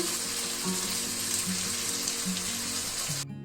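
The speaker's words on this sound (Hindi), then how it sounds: "भून लें थोड़ा इसे।" Spices frying with lemon juice in a pan for aloo bhindi curry, a continuous close sizzle and hiss with no talking.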